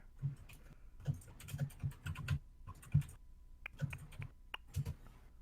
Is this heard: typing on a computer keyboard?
yes